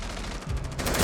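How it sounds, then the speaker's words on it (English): Rapid automatic gunfire from the tactical shooter Rainbow Six Siege crackles in a quick burst of repeated shots during an esports match, loud and close for about a second. "Revan going to be taking some shots onto the Bandit."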